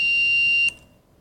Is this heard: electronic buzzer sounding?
yes